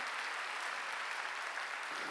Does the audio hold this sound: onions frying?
no